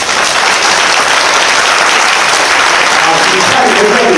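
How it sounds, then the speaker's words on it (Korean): Audience applauding at an apartment redevelopment information session, a dense sustained burst of clapping from a crowd that fills the whole stretch, loud and steady. "박수 한번 주세요."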